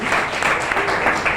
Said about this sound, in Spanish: Palmas al Espíritu Santo.